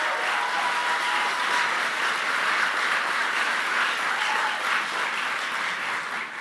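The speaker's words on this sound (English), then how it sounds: "he stood up and clapped for that" Steady, dense applause from a large audience at a political rally fills the clip evenly from start to finish, with no voices rising above it.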